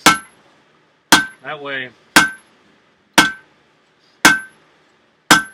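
Hammer blows ring sharply on a blacksmith's anvil at a forge, six evenly spaced metallic strikes each with a bright lingering ring, close and loud, with a brief spoken phrase between two of the strikes.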